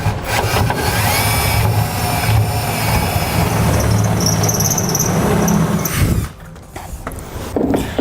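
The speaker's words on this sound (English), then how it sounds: "Now we can enlarge our holes that we drilled to a 1/2 inch diameter, and for that I'm going to use a step bit" A drill with a step bit enlarges holes to 1/2 inch in the bed of a 2007 Toyota Tundra during a gooseneck hitch install, grinding loudly and steadily for about six seconds before stopping.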